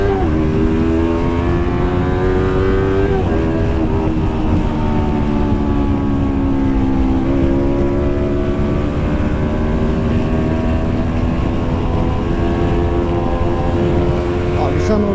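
A Yamaha R25 motorcycle engine drones close and loud as the bike rides on a hot asphalt road, revs rising and dipping in steady sweeps, with wind rush throughout.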